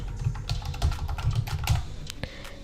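Rapid keystrokes on a computer keyboard while a domain name is typed into a settings page, a close, quick irregular clatter of clicks with no talking.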